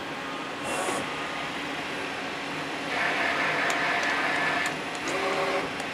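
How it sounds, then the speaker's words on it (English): A CNC lathe spindle hums steadily while threading steam engine parts, a close mechanical whine that rises in pitch and loudness as the cut runs, with faint clicks over the drone. "I'm going to hit go and turn on the spindle, and then when I hit go again, it's going to start threading"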